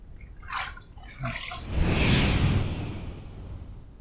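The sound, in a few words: rinsing a razor under running water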